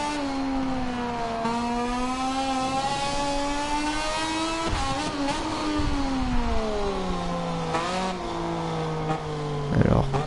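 MotoGP racing motorcycles sweep through the last corner at Jerez, with high engine whines rising and falling in pitch as they pass. A commentator talks over the sound.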